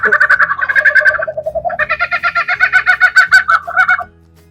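A loud DIY eight-channel electronic vehicle horn built on a DY-SV8F board sounds a novelty tune of rapid, warbling tones that step between pitches and resemble a clucking fowl, then stops abruptly.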